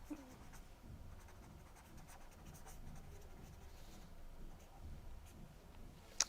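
Pen or marker writing on a board during a chemistry class, a faint continuous scratchy scrawl with small strokes and taps, low and steady in a quiet room.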